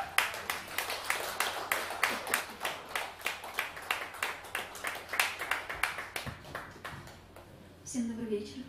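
Audience at a live concert in Moscow's Kozlov Club claps in a steady rhythmic beat to welcome a singer, a long, even run of close, crisp claps that fades before a voice speaks at the end.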